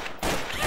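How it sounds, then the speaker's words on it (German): A sudden loud video-game gunshot in Trouble in Terrorist Town cuts in after a brief quieter moment, followed by sustained booming rumble. "ich hör einfach nur so einen Schuss neben mir fallen"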